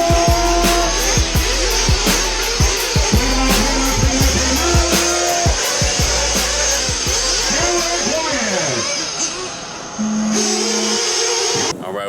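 Sworkz S35-4 Evo nitro RC buggy racing around a dirt RC raceway, its small engine screaming and revving up and down in rapid bursts, loud and near, with brief lulls between passes.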